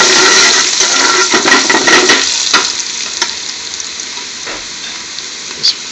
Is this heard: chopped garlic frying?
yes